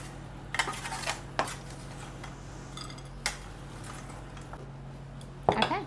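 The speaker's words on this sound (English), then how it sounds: "Do y'all hear it hit the plate?" Crispy cooked bacon dropped onto a plate in a home kitchen makes a few light clattering clicks and soft crunchy taps, scattered over a low steady hum, with a slightly louder clatter near the end.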